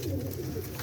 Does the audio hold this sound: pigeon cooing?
yes